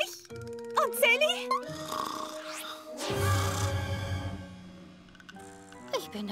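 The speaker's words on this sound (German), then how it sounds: "Das war nur das Schnarchen von Orangella. Hört sich an wie ein sterbender Büffel." A cartoon character in a children's animated show snores loudly, a long rasping, rumbling snore in the middle of the clip, surrounded by playful music and character voices.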